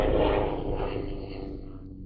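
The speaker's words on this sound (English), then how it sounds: "aeroplane over studio." An aeroplane passes over a studio with a loud, broad engine roar that is strongest at the start and then slowly fades as it moves away.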